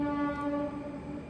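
A train passes with a loud, sustained horn-like tone holding steady, close and alone, with no voices over it.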